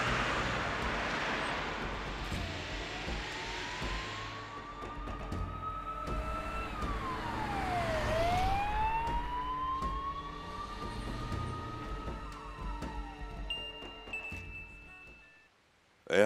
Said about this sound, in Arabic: سيارة الإسعاف عم تتجه من منطقة كارتال لبوستانجي